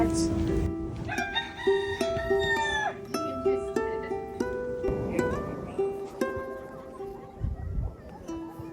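Roosters crow repeatedly with drawn-out calls while chickens cluck around them outdoors on a walk, a dense overlapping farmyard chorus.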